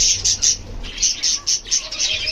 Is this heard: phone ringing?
no